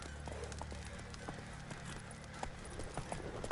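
Galloping horse hooves in The Witcher 3 video game thud in a quick, fairly even rhythm, moderately loud and close, set against a constant low ambient game hum.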